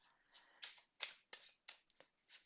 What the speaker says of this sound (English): shuffle and see what comes through